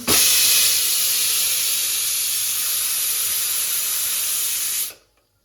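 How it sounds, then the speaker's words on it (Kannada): A pressure cooker releases a loud, steady hiss of escaping steam for about five seconds, then cuts off abruptly into silence. "ಕುಕ್ಕರ್ ಕುಕ್ಕದೆ,"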